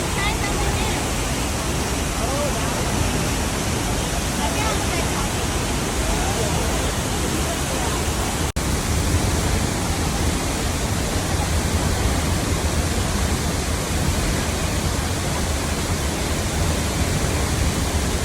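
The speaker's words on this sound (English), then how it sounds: "we are in the top of the waterfall" La Fortuna waterfall roars in a dense, constant wash of falling water heard from close by at the top of the falls, loud and unbroken throughout with no voices standing out.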